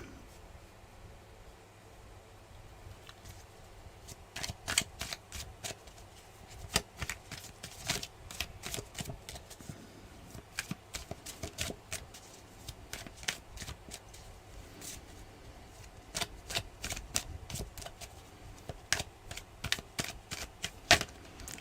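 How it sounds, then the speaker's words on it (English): Repeated bursts of tarot cards being shuffled, crisp riffling flurries coming in quick clusters with short pauses between, close and fairly quiet. "So, a good old shuffle."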